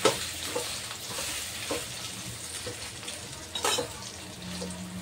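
Okra and potato pieces frying in hot oil, a continuous close sizzle broken by soft stirring scrapes and an occasional clink of the spoon against the pan, with no voices.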